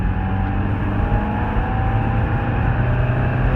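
A Mazda Miata's engine pulls steadily from inside the cabin, a continuous droning hum with a faint rising tone as the revs change through a gear shift, loud and close with no talk.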